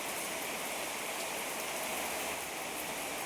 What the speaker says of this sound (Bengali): আরে কি বৃষ্টি